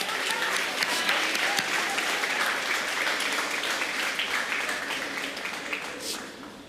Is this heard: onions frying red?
no